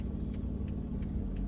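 A car drives along a road on a rainy day, giving a steady low rumble of engine and tires from inside the vehicle, continuous and close, with no talking.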